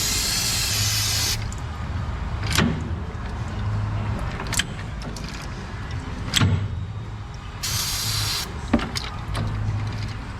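Bursts of hissing water spray wash out the axle gears of a Chevrolet 1500 4x4 truck, loud at the start and again later, with sharp clanks and knocks from the turning gears in between.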